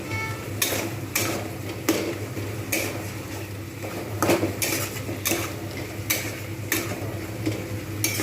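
Roasted coriander-cumin powder and spice paste for mochar dalna being stir-fried in a pan, with a metal spatula scraping and clanking against the pan in regular strokes over a low sizzle, close and without talk.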